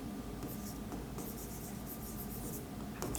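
Handwriting with a pen on paper while working an accounting exam solution, a steady close scratching and rubbing of strokes that continues throughout, quiet and without talk.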